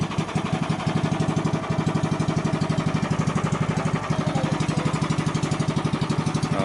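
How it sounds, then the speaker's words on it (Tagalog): New fishing boat engine running steadily after starting, a rapid even thumping idle beat at close range, loud and continuous with no talk over it. "maganda yung makina, one click"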